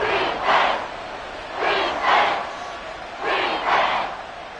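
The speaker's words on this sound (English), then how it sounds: "This crowd doing all they can." A football stadium crowd at a Vikings game roars in three rising swells of cheering and chanting, broad and distant-sounding, under steady crowd noise.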